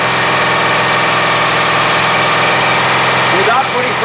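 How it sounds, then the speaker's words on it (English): A rescue tool power unit's small engine runs at a steady idle, loud and close with a continuous chugging vibration, and a voice briefly joins near the end. "Let the engine run for a few minutes"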